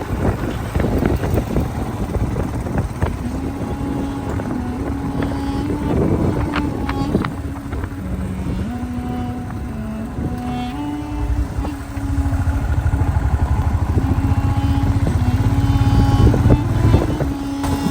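Engines of two vehicles driving through forest at night in Wayanad's Chekadi woods form a continuous, loud cabin rumble with shifting engine pitch, rough road noise and a brief swell in intensity near the end.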